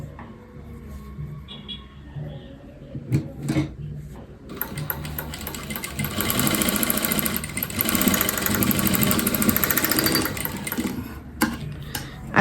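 A sewing machine stitches the pieces of a katori blouse, starting with a few short bursts and clicks, then running in a loud, steady whirring stretch before stopping close by.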